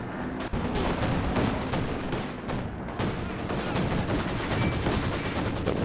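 Twin Flak Panzers firing in Company of Heroes 2 pound out a dense, steady stream of rapid anti-aircraft bursts, loud and close, forming a continuous rattling barrage over a battlefield rumble.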